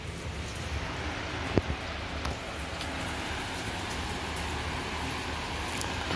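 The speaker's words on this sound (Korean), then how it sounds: "밖에는 비가 많이 옵니다." Heavy rain falls outside during the rainy season, a soft steady patter heard from indoors that stays even and fairly faint, with one brief louder knock partway through.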